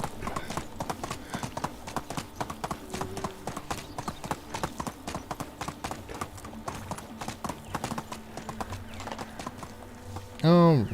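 A horse in the medieval survival game Medieval Dynasty clip-clops along at a steady trotting rhythm throughout, with a whinny near the end and someone talking over it briefly.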